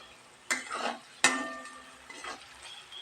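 A spoon clanks against a pan while homemade masala is stirred and roasted, two sharp metallic hits each followed by a short scraping sizzle, then a softer third stir over a quiet kitchen background.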